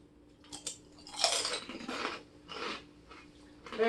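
Someone chews pork rinds close to the microphone, a series of crisp crunching bites in irregular bursts separated by brief pauses, with no talking.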